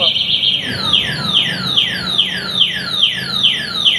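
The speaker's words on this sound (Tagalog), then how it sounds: "Naka-anti-theft alarm." An anti-theft alarm on a Nakayama Eagle electric bike sounds loudly and up close, with a rapid series of repeated descending electronic chirps that cycle evenly and continuously.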